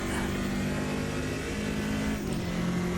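A race car driven in the Automobilista 2 sim racing game on cold tyres, a steady droning engine note heard continuously at moderate level, with a slight shift in pitch near the end and no talking.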